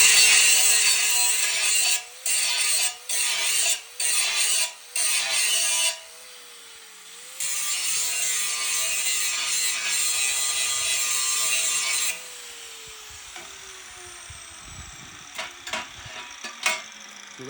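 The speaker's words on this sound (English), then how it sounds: "I need to get this slag off, so I'm grinding that" An angle grinder works slag off the torch-cut edge of a 1/4-inch steel plate fire ring while putting a chamfer on it. The motor whines steadily under a harsh, gritty rasp that comes in short repeated passes, then longer sustained runs, before the motor winds down.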